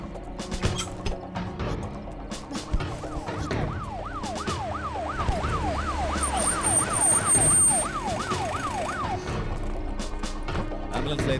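An ambulance siren wails in rising and falling sweeps through the middle of a tense scene in a Tamil-dubbed action movie, loud over busy background score, with voices around it.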